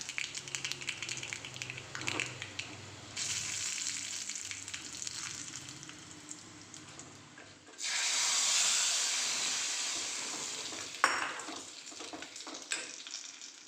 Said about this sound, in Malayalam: കടുക് പൊട്ടി വരുമ്പോൾ ഒരു വറ്റൽമുളക് ഇട്ട് കൊടുക്കാം